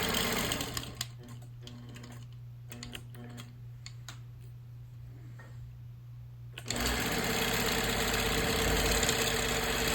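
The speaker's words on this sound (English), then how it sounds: "I stitched in the ditch around the star." A quilting machine stitches in the ditch around a star block on a quilt, running with a steady mechanical hum and rapid needle clatter that rises to a louder continuous whir partway through.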